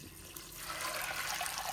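Chicken stock poured from a container into a pot of beans for white bean chili, a steady liquid splash and trickle that swells slightly over a couple of seconds, close and moderately loud.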